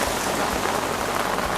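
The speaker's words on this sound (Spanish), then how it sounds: "¿Ven como la lluvia nomás llegó de la nada?" Heavy rain pouring down steadily, a dense close hiss of drops striking surfaces with no voices.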